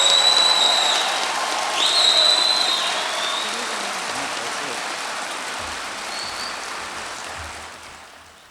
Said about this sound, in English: can we get one big round of applause for the class of 2022?